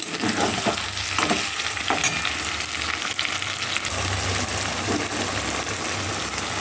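Ginger garlic paste fries loudly with softened tomato and onion for chicken curry, a dense close sizzle with intermittent stirring scrapes, alone with no voices.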